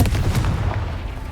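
A Confringo spell blast in Hogwarts Legacy booms close and loud as a heavy, explosive burst that rumbles and fades out over about a second.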